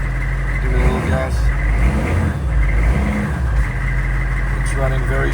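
A restored HMMWV Humvee engine runs loud and close, its rough, steady rumble rising briefly as the throttle is blipped, with a voice speaking faintly underneath.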